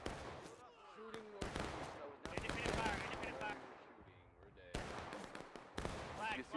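Musket volleys crackle in the Civil War battle game War of Rights, with repeated sharp bursts of scattered gunfire, some close and loud, others distant, over continuous battlefield noise and shouted voices.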